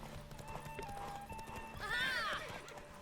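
Horse hooves clopping in a steady rhythm in The Witcher 3, followed by a loud whinnying neigh near the middle, with a voice speaking faintly underneath.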